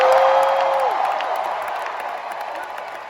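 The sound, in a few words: crowd applauding and cheering at D23 Expo panel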